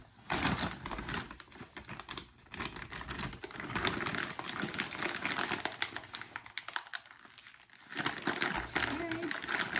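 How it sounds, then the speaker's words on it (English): Plastic packaging crinkles and crackles steadily while ingredients are layered for a Christmas Hello Dolly bar recipe, the rustling close and continuous, with a voice talking over it at times. "sorry for those crinkling noises"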